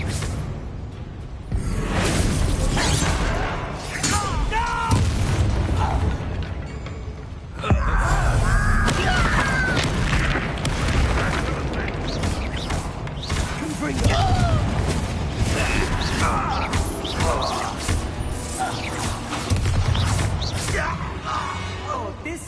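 Repeated Confringo blasting spells in the Hogwarts Legacy video game, booming explosions and whooshing bursts layered with mechanical clanks and creaks, loud and dense throughout, with voices talking over the action.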